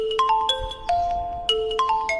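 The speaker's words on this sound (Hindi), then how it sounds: "ले चल, पिताजी की कॉल आ रही है।" A mobile phone rings with an incoming call, a bright electronic ringtone of quick repeating melodic tones in short bursts, close and clear with no voices.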